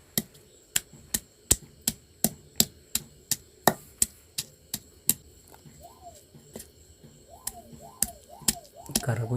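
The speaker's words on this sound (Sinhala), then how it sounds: "කරපුංචි තම්බේ කොටන්නේ" Curry leaves for chicken curry are pounded or chopped in a steady series of sharp, evenly spaced knocks, about two per second, close and loud, with a few short voiced sounds near the end.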